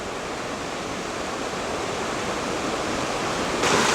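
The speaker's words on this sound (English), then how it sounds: "There's the waterfall from the front." Waterfall on a river cascade in New Hampshire, giving a steady, full rushing roar of water that continues unbroken and swells slightly at the end.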